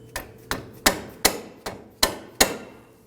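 Hammer tapping a bolt into a front lower ball joint on a 2008-2011 Ford Focus, seven sharp metallic taps at a steady rhythm, close and alone.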